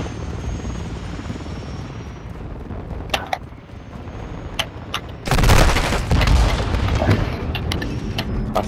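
A helicopter in Call of Duty: Modern Warfare II drones with a steady rotor thump, while sharp gunshots and heavy booms break in, growing louder and denser toward the end.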